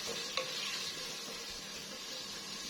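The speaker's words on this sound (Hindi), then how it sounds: "इन सब चीज़ों को ऑयल डाल के फ्राई कर लीजिए और इतना फ्राई करना है कि ये गोल्डन ब्राउन हो जाए" Onions, ginger and garlic fry in oil in a pan, a steady close sizzle with one brief clink near the start.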